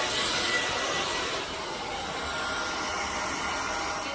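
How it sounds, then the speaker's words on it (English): A blow dryer runs continuously, a loud steady whooshing roar that dips slightly partway through, used while styling a wig over locs. "Blow dryer."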